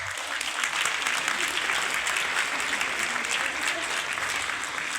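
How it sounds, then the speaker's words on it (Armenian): Sustained applause from a large audience, thick even clapping that holds at a strong level throughout with a slight easing at the end. "Ծափահարենք աշխարհով մեկ ցնված մեր բոլոր հայրենակիցներին։"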